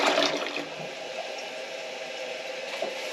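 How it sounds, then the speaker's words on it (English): A toilet flushing on a farm property, a steady moderate rush and gurgle of water running throughout without a clear start or finish, no voices over it. "The first flush, ready?"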